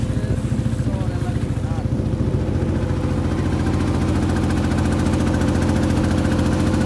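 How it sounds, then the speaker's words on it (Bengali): A boat engine chugs steadily with a rapid, even low throb during a roughly twenty-minute river boat trip toward Urir Char in Noakhali, and voices are heard over the running motor. "প্রায় 20 মিনিট নৌকা ভ্রমণ বা নৌকা যাত্রা শেষে আমরা মোটামুটি উড়িচরের কাছে পৌঁছাইলাম।"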